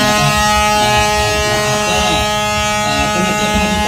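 A loud, sustained six-wheel truck air horn blares steadily for the whole stretch, a harsh droning tone with no break.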